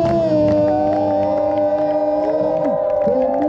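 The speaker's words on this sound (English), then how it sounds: "When we say make some noise, you all make some noise." A Venice Beach street-show crowd cheers and whoops continuously, with sustained voices and shouts layered loudly throughout.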